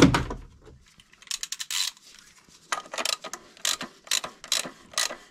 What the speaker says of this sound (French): à la fin on prend la clé de 32, on serre un petit peu